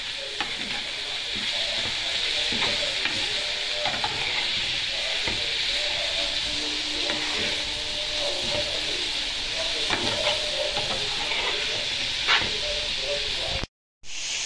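Alexandrian-style liver fries hard in a pan with a loud, continuous sizzle and hiss, broken up by scraping and clattering as it is stirred, and a short dropout near the end.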